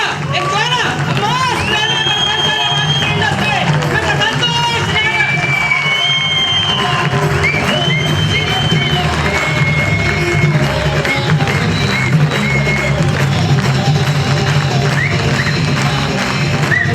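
A theatre audience cheers and whoops loudly while crowd noise builds, and applause and voices overlap continuously throughout.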